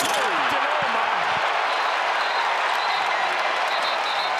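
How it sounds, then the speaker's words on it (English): Basketball fans erupt in loud, sustained cheering and applause after a play during a college game against Radford, filling the arena with dense, unbroken crowd noise after a few sharp thuds at the start. "That's that play that gets the crowd going."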